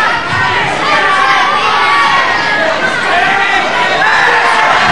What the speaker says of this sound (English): a packed crowd here at Aylesbury